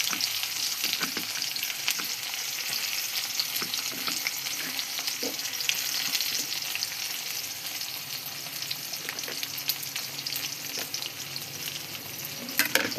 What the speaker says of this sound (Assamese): এতিয়া অলপ ভাজিব লাগিব।